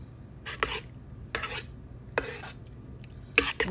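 Stew in a pot being stirred after a squeeze of lime juice, heard as four separate bursts of scraping and clinking from a utensil against the pot, each about a quarter second long, with quiet pauses between and no talk.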